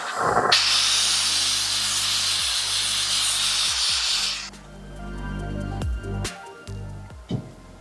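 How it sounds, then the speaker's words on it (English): Steam iron pressing a sewn bodysuit bust line over a tailor's ham, with a loud continuous hiss of steam for several seconds, then quieter clunks and shuffling as the iron is set down and moved. "I'm going to be pressing the bust line over a tailor's ham, and you can actually open the ruching in order to just steam press"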